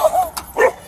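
A police dog barks and yips in short bursts, two harsh close calls separated by a brief gap, during a roadside arrest in Gastonia.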